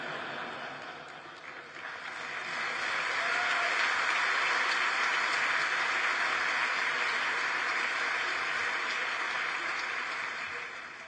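Sustained applause fills the chamber of the US Congress for a Japanese prime minister's address, swelling from moderate clapping to a full, steady roar that holds for several seconds before easing slightly.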